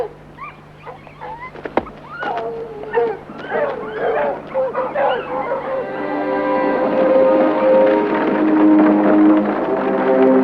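Dogs bark excitedly at an approaching stranger on a farm, quick yips and barks early on, then a speaking voice and sustained tones over a steady low hum.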